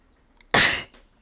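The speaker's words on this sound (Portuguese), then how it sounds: "Ai, desculpa, gente, espirrei." A single sharp sneeze bursts out close to the microphone, a loud explosive puff that decays quickly into a quiet room during a guided positivity meditation.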